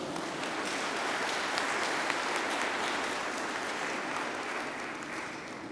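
Sustained applause from a church congregation at a Hindi Sunday Mass, steady clapping from many hands filling the room for several seconds without speech.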